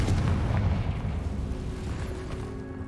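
A Confringo blasting curse goes off in a Harry Potter video game, a loud booming explosion with a heavy low rumble that decays slowly over a few seconds.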